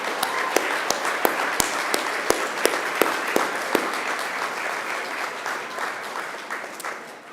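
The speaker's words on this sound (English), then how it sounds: "turn to one another and give yourselves a massive round of applause" Graduates at a Macquarie University graduation ceremony applaud one another, a dense, sustained round of clapping that fills the hall, with sharper individual claps popping out early before the sound gradually thins toward the end.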